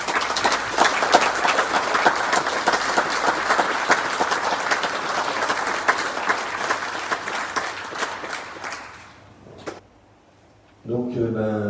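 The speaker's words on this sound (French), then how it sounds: "Je les félicite et on peut les applaudir" At a municipal council meeting, the assembly applauds newly elected deputy mayors with sustained clapping that tapers off and stops, followed by brief quiet and then a speaking voice.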